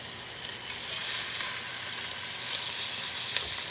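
Short ribs sear in a hot pan with a steady, close sizzle and bright crackling frying, even and unbroken throughout, with no voices.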